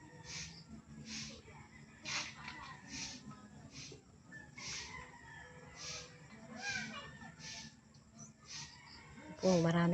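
Chickens cluck and call repeatedly at a short distance, with a brief rooster-like cry near the end and faint voices in the background.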